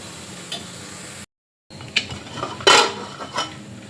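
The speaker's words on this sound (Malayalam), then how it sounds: "ഇനി നമുക്ക് കുക്കർ ഒന്ന് തുറന്ന് നോക്കാം" A pressure cooker holding egg biryani is opened: close metallic clanks and scrapes of the lid and pot, with a sharp cluster of clinks near the middle and quieter rattles around it, no talking.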